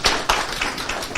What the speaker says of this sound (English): I think a round of applause.